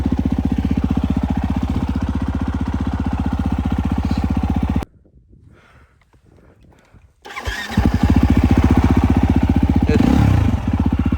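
A Husqvarna FE 350 motorcycle engine running at a loud, rapid idle, cutting out briefly midway, then firing back up and running again close by.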